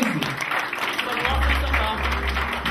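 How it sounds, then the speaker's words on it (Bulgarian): Wedding guests applaud the best man, clapping under a host's talk, with a low musical hum entering partway through. "Аплодисменти за кума"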